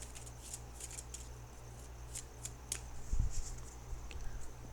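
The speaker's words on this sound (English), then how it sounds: "Now I'm going to shuffle for the outcome card." Tarot cards being shuffled by hand, a series of light, crisp riffling flicks and taps, close and fairly quiet, with a few soft bumps toward the end.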